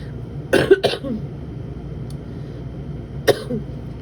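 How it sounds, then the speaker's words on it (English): A person coughs twice in quick succession, then clears their throat once more a few seconds later, close and dry against a quiet background. "Because of those coughs there, clearing my throat there"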